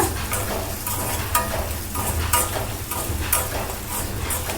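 Onions fry in a pan and are stirred now and then, with a continuous close sizzle and scraping strokes running throughout and no talking.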